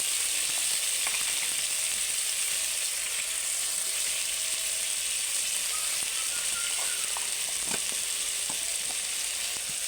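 Chopped tomato with salt hisses in hot tempering oil, a dense continuous sizzle close up, with faint scrapes and clicks of stirring scattered through it.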